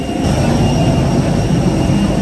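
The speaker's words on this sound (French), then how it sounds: "l'avion fait un de ses bruits" Loud, steady roar of a passenger airplane's jet engines heard from inside the cabin after arrival, a dense unbroken rumble with a faint high whine on top and no talk.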